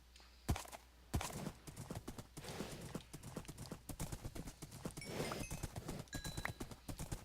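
Horse hooves clip-clopping in the Minecraft video game, a quick regular run of hollow knocks with a brief whinny, fairly close and clear, no talking.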